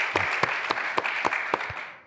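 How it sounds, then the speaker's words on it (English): Audience in a studio giving a short round of applause, brisk dense clapping with a few sharper individual claps, ending abruptly after about two seconds. "you guys can give yourselves a round of applause."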